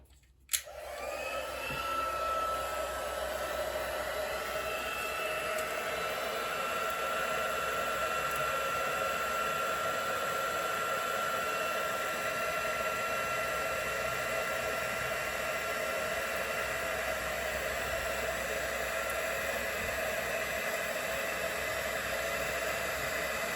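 A heat embossing tool blows hot air onto a card for window card making, a steady loud whooshing hiss that starts with a click and runs unbroken throughout.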